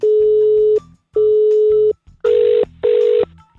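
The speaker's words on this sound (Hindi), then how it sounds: "Sorry sir, phone got disconnect हो गया।" A phone line drops and gives a loud electronic disconnect tone. Two long steady beeps are followed by two shorter buzzier beeps, each separated by brief gaps.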